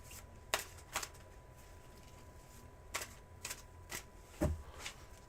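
Tarot cards shuffled during a reading, a series of sharp, close riffles and snaps spaced unevenly over a quiet steady hum, with no one speaking.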